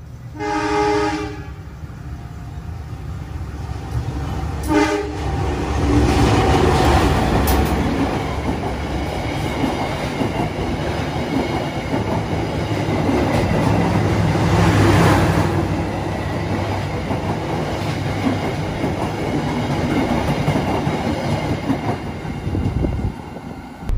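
The Kutojaya Selatan passenger train rumbles steadily along the rails departing Nagreg station, with a loud horn blast near the start, wheels clattering and the roar swelling and fading.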